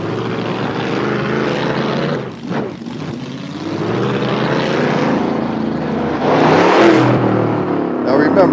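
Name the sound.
1967 Chevelle SS car engine running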